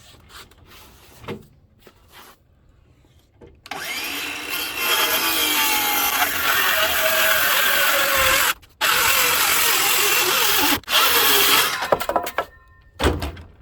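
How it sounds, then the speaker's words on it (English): A power saw rips down wooden boards on a tailgate workbench, running loud and steady for several seconds with brief pauses between cuts, after quieter handling knocks at the start. "And I'll just rip a couple of boards down."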